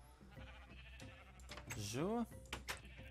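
Blue sheep in the video game Minecraft give a single clear bleat with a wavering pitch, heard midway under someone speaking Dutch over soft game ambience.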